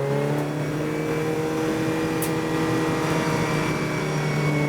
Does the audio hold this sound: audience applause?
no